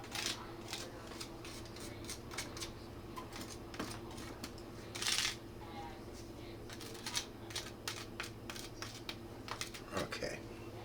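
Light scratchy scraping of freeze-dried beet powder pushed across a capsule machine toward its chute, a run of short dry strokes and clicks at close range, with faint talk in the background.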